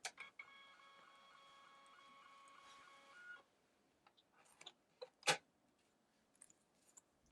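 A MakeID Q1 wireless label printer whirs steadily for about three seconds as it feeds out a label, quiet and close, followed by a few faint clicks and a soft tear or snap.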